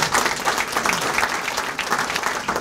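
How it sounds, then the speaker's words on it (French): Brisk applause rises from a town hall audience at a New Year's greetings ceremony in Néoules, France, loud and close, with uneven clapping bursts pulsing through a short stretch. "Vous pouvez l'applaudir, Nathalie."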